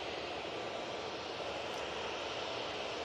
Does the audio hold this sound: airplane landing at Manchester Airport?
yes